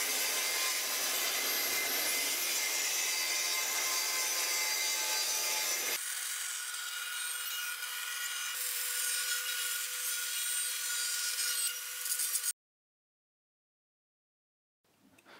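A guide rail saw cuts through wood, a loud, continuous close-up whine with a shift in tone partway through as the blade bites, then it cuts off abruptly and falls silent.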